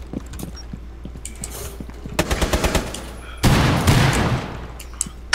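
Gunfire in the Rainbow Six Siege video game: a quick burst of rapid automatic shots followed by a heavier sustained volley of fire, loud and close with no talking.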